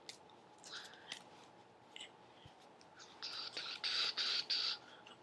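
Playing cards being shuffled by hand: faint scattered flicks early on, then a quick run of crisp riffling bursts near the end, all quiet and close with no talking.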